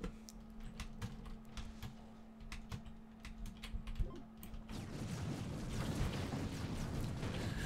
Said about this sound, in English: if I raise my mic up, and if I tap on my keyboard